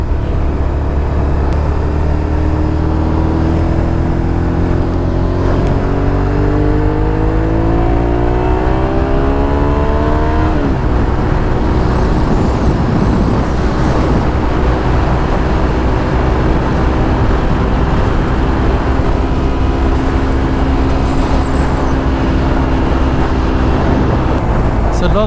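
Motorcycle on the freeway, engine droning steadily with rising and shifting tones as it accelerates, heavy wind rush throughout, continuous and loud.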